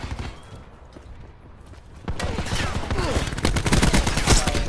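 Rapid automatic ICR rifle fire in Call of Duty Black Ops 4 gameplay, a quieter stretch giving way to dense, loud bursts of repeated shots over busy game noise.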